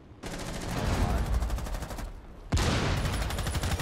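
Rapid bursts of automatic gunfire from a Rainbow Six Siege match, loud and dense, with a brief lull before a second sustained volley; voices from players chatting are faintly mixed in.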